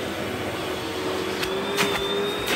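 A Eureka Powerspeed upright vacuum cleaner runs steadily over carpet, a loud continuous motor whine with a rising pitch and a few brief surges as the head is pushed, and no talking.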